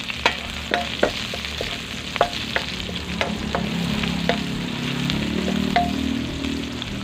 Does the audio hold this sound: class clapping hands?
no